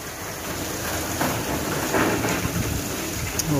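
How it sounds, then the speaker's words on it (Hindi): Heavy rain pours steadily outdoors in Faisalabad, a dense continuous hiss of water with occasional louder splashes; no one speaks. "बहुत तेज़ी से माशाल्लाह बारिश हो रही है।"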